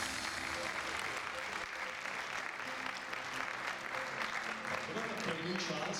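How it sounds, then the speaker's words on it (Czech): An audience at the 2012 Prostějov sports awards ceremony applauds the Sokol Čechovice older pupils' team, with sustained, dense clapping from a crowd in a hall and a voice faintly audible beneath it. "Takže potlesk pro družstvo starších žáků Sokol Čechovice."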